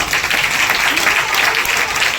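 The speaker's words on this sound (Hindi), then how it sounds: "ताली बजाओ दीदी के लिए।" A business training audience claps for a woman, steady dense applause from many people close by, loud and unbroken throughout.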